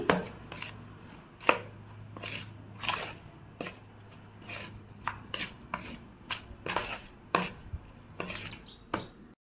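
Lemon juice, chili powder, turmeric and salt are worked together into a masala for tandoori chicken, making quiet, irregular taps and scrapes of a spoon against a bowl. A few sharper knocks stand out, and no one speaks.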